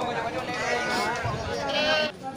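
Goats and sheep bleat among a livestock market crowd, several wavering cries overlapping under steady background chatter and voices nearby.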